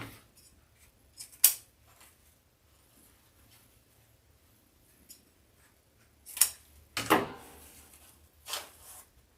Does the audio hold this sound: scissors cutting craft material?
yes